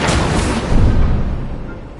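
Incendio fire spell cast in the video game Hogwarts Legacy, a loud, dense roaring whoosh of flame with a heavy low burst midway that slowly fades, heard alone.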